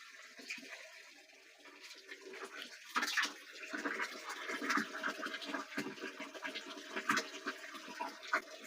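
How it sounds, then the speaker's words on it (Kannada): Clean water is poured into a container while preparing go krupa amrut, a cow-based farm tonic, giving an uneven, gurgling splash with scattered clunks and scrapes, fairly close, for several seconds. "ಶುದ್ಧವಾದ ನೀರನ್ನು ಹಾಕ್ತಾ ಇದ್ದೀನಿ"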